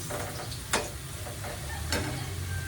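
Tenderized pork browns in a hot pan with an even, close sizzle, broken by two sharp utensil taps or scrapes.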